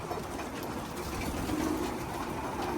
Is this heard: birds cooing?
yes